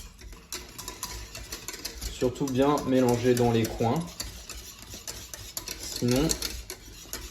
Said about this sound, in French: Et là on mélange très vigoureusement.